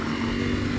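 Steady engine drone of a Ducati Panigale V4 Speciale motorcycle rolling along, a continuous loud hum with no talking over it.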